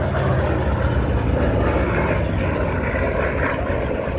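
A vintage WWII warbird, a Grumman Avenger or Vought F4U Corsair, flies a display pass at the Wings Over Illawarra 2022 air show, heard as a loud, steady propeller engine roar with no voices.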